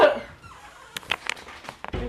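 A dog gives a short burst of excited yips and whimpery barks, close and fairly loud, scattered quickly over about two seconds with no talk.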